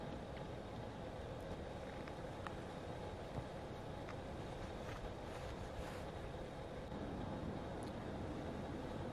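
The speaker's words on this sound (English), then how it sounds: "Wind is blowing directly into my face at this point from that direction" Strong wind rushes outdoors near the East Troublesome wildfire by Estes Park, a constant loud blustery roar buffeting the microphone, with no voices.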